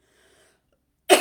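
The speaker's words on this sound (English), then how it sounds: "I'm recording and coughing" A single harsh burst from a person while recording, loud and abrupt after near silence, tagged closer to a sneeze than a cough.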